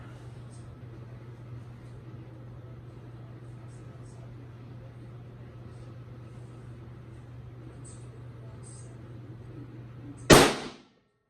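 A Tikka T3 Tactical Compact rifle fires downrange at a 100-yard range: one sharp, loud crack near the end follows a long stretch of low background hum.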